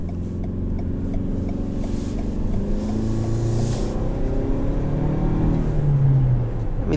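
Interior engine and road sound of a 2022 Toyota RAV4 XSE Prime plug-in hybrid SUV with 300 horsepower accelerating hard, a rising drone with a steady road rumble underneath, heard from inside the cabin.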